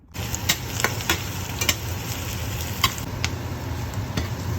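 Garlic sautéing in a pan for pinakbet, a steady close sizzle with scattered sharp crackles and a few stirring scrapes, no talk.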